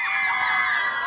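A large crowd of fans at a concert lets out a loud, sustained chorus of high-pitched screaming that stays intense and steady throughout.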